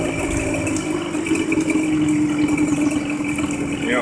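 A 2004 Mercury 8 hp two-stroke outboard motor runs on a test after a gearbox oil change, a steady buzzing drone with a slight rattle, close and loud throughout, with no talking.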